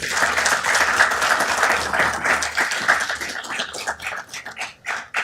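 An audience at a city council meeting gives a veteran a round of applause, a burst of clapping that thins into scattered, separate claps toward the end.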